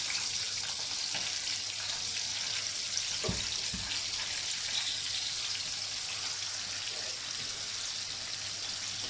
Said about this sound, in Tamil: ஸோ இது மசாலா இது எல்லாமே நல்லா வதங்கணும்.